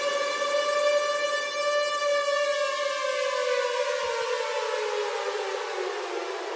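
An air raid siren wails steadily, its pitch slowly sliding downward as it winds down, loud and alone with no voices.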